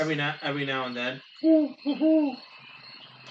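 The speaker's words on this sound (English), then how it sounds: "ambient swamp sounds." Owl hoots in an ambient swamp soundscape with frogs, two clear hoots after a short spoken phrase, followed by a quiet background of swamp ambience.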